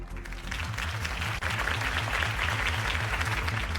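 A crowd in the Batman Telltale video game applauds after a campaign speech, a steady wash of clapping at moderate volume running the whole length, with a low rhythmic musical pulse underneath.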